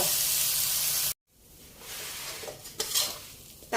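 Snakehead fish stir-fried with curry paste sizzles in a pan, cut off by a sudden brief silence, then resumes with softer frying hiss and a few spatula scrapes against the pan.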